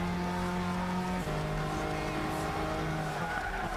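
In Gran Turismo 6 on PS3, a race car brakes hard into a corner. Its engine note drops through downshifts under a continuous squeal of skidding tires, close and sustained.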